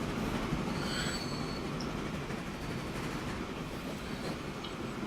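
A wood-carrying train rolls along in the Transport Fever video game with a steady rail rumble, rhythmic clatter and sharp intermittent wheel squeals, fairly loud and alone with no talk.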